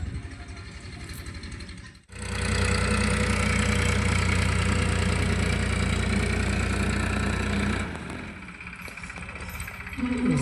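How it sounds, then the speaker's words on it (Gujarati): A tractor that has arrived in a potato field for wheat sowing runs as a loud, steady, close engine drone. It starts after a brief sharp cutoff and eases off near the end, with no talk. "તો જો ટ્રેક્ટર પણ આવી ગયું છે"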